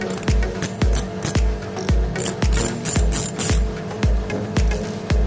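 A Hello Kitty fishing reel handle is cranked steadily, producing a regular ratcheting click with each turn, close and fairly loud, with no voices.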